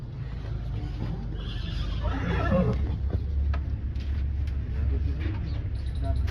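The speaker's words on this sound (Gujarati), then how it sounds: "આ બ્લેક કલરની ઘોડી છે" A black mare whinnies loudly and nearby, a long descending neigh over steady low background rumble, followed by some faint clicks and shuffling.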